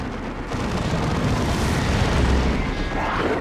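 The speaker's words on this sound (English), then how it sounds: "I hear a Manticore over there." Rumbling booms and bursts of Manticore rocket artillery in a Dawn of War 2 battle, a continuous loud barrage with heavy low-end blasts layered over battlefield din, no talk.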